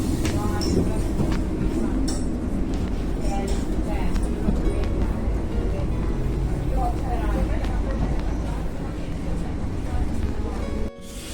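A train runs steadily on a Bengal suburban line, a continuous loud rumble and rattle of railcars filling the whole stretch, with voices faintly under it.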